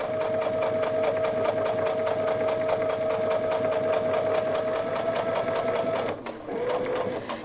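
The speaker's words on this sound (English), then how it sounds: "I'm going to stitch down to the bottom where that metal piece is" Sewing machine stitching a zipper, running in a fast, steady mechanical chatter with a constant whine, close and loud, then briefly pausing and restarting near the end.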